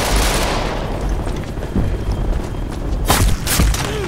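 Gunfire in the online shooter Ghost Recon Online, a noisy barrage with sharp, loud bursts toward the end over a constant rumbling battle background.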